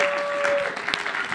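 Applause from a church congregation at a Sunday service after a youth presentation, a brief, moderately loud patter of clapping with a faint voice mixed in.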